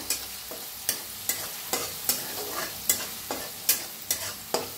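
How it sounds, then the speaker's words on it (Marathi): Green chillies fry in hot oil for a sabudana khichdi, with a constant sizzle punctuated by rhythmic spatula strokes about every half second, close and fairly loud, with no talking. "तर हिरवी मिरची टाकूया, हिरवी मिरची भाजून घेऊया"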